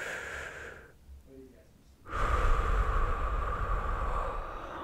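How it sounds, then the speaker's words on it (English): A deep, slow breath taken to relax, a long audible inhale followed by a louder, rushing exhale close to the microphone. "Let's take a deep breath to relax."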